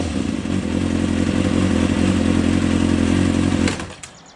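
A motorcycle sits up on its rear stand with the wheels spinning, its engine running in a loud, steady drone that holds evenly for several seconds, then cuts off abruptly near the end with a few clattering knocks.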